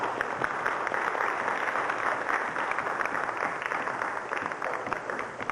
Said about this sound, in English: Nice round of applause for Thomas.